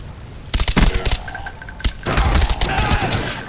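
Video game gunfire in a loud cluster of sharp automatic shots, followed by a sustained rattling burst with a rumbling low end and no voices over it.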